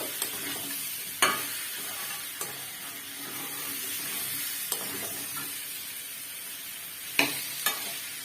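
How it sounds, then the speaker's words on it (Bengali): Potatoes fry in a pan for an elephant foot yam and prawn dish, giving a constant close hiss and sizzle with a few sharp spatula clinks at irregular intervals. "ওনার আলুটা একদম 2 মিনিটের জন্য ভেজে নেব।"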